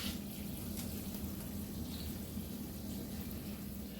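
Lentils being washed in water before going into a crock pot, a steady, soft wash of running and swishing water at an even level throughout, with no voices.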